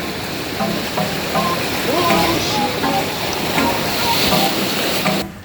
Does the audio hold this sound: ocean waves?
yes